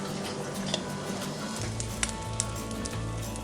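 Spaetzle dumplings sizzling in butter in a cast iron frying pan, with a steady, close frying hiss and occasional light clinks and stirring sounds throughout.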